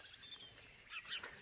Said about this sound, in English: there's tons of birds up there.